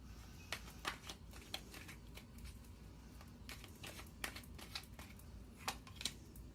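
Tarot cards are shuffled by hand as a quiet run of soft riffling flicks and snaps, irregular and close, with no talking over them.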